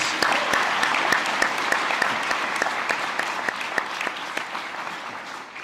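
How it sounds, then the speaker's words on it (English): A seated audience at a Sustainable Innovation MBA inauguration ceremony gives the graduating class a sustained, dense round of applause. The clapping is steady and fairly loud throughout, easing slightly toward the end, with no speech over it. "Let's give them another round of applause."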